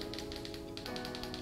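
Rapid, crisp key clicks in a steady run, close up, like fast typing on a mechanical keyboard, with a faint hum underneath.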